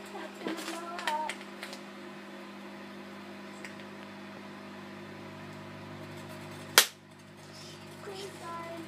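Fairy lights spark and pop inside a running microwave oven: scattered crackles over a steady hum, then one sharp loud pop, with faint voices in the background.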